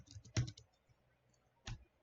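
Keys clatter on a computer keyboard: a quick cluster of soft taps, a pause, then one more press, quiet and close in an otherwise still room.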